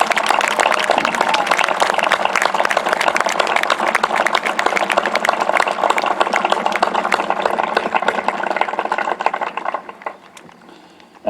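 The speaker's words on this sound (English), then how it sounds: "a round of applause for your RSM that will be leaving here tomorrow" Audience at a cadet sunset ceremony clapping for a departing regimental sergeant major, a dense sustained round of applause that holds steady before thinning and fading near the end.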